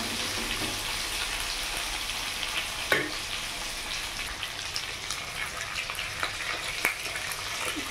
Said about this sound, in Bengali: কাঁচকলাগুলো ভাজা হচ্ছে।